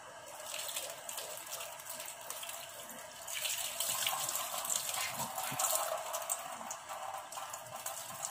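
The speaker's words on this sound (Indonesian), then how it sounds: "wortel dicuci bersih" Tap water running steadily over carrots being washed in a kitchen sink, a soft continuous splashing hiss that swells slightly partway through, faint and close.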